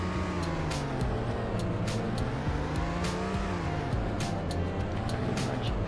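Car in the Roblox driving game Greenville, its engine revving up and down in repeated surges as it accelerates aggressively, with a few sharp clicks over the steady motor tone.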